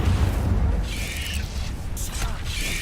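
An Incendio fire spell cast in Hogwarts Legacy, a rushing whoosh with a low boom at the start and bright crackling bursts that flare up twice more, fairly loud over a game soundscape.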